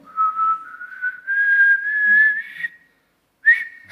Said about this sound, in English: I can't whistle that high.